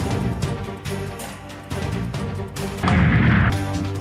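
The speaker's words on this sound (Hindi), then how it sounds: "शानदार आतिशबाजी का मुजाहरा।" Fireworks burst over Times Square in New York during New Year celebrations, a dense run of booming, crackling explosions that swell louder toward the end, heard from a distance as continuous rolling blasts.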